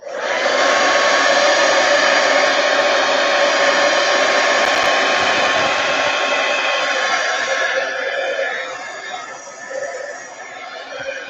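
Hair dryer blowing steadily on wet permanent paint in an art journal, a loud, close, continuous whoosh that runs almost the whole time and eases slightly toward the end.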